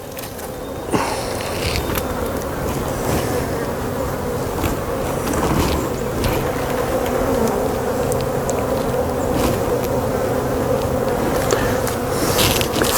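Dense buzzing of many honey bees fills the air up close at an open hive, a continuous droning hum with occasional wooden knocks and scrapes of frames.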